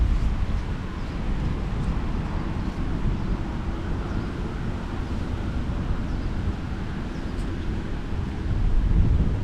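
Strong wind gusts steadily across the microphone on a fishing outing at sea, a constant low roaring rumble that stays loud throughout and swells near the end.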